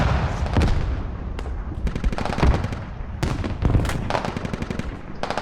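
Dense automatic gunfire in the video game Squad rattles on and off in rapid bursts with scattered sharper shots, loud, nearby and continuous throughout.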